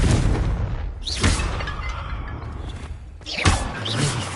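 A Confringo blasting spell smashes a vase in Hogwarts Legacy: two loud booming blasts about two seconds apart, each with a whooshing rush and a crashing smash, with steady game ambience between them.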